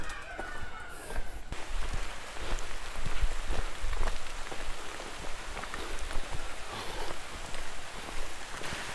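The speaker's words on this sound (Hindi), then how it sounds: "तो बारिश शुरू हो गई है" Steady patter of rain falling on surfaces nearby on a trek at Kalavantin Durg near Panvel, Maharashtra, a continuous hiss with scattered drop impacts, no voices.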